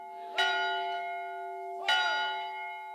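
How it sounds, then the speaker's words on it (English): A church bell in front of Ayer Hall at Jackson State University rings for the traditional Centennial Bell Litany, sounding two clear struck tolls about one and a half seconds apart, each leaving a long, humming ring. "The day ended with the traditional Centennial Bell Litany in front of Ayer Hall."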